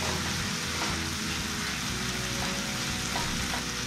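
Onion-garlic paste frying in a pan for fish rezala, a steady close dense sizzle with faint stirring scrapes running throughout, no talking.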